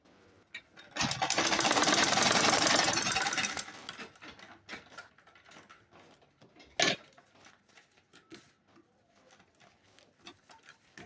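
A sewing machine stitches a ladies' handbag in one loud, fast burst of about three seconds, then goes quiet apart from a brief clack and faint handling noises.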